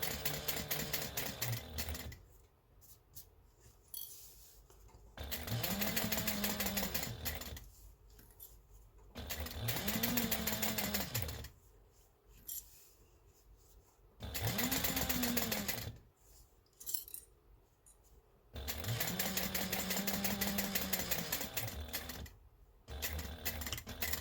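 A sewing machine top-stitches the slip pocket of a bag in several loud bursts of rapid stitching, each lasting a few seconds, separated by short pauses with quieter handling sounds.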